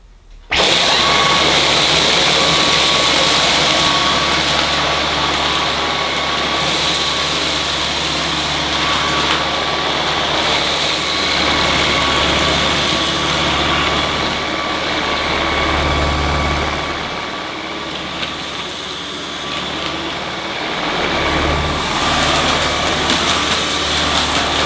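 A Dyson V11 Absolute cordless vacuum cleaner runs loud and close in a continuous high-pitched whine with a steady motor roar, dipping briefly midway as it works across the floor.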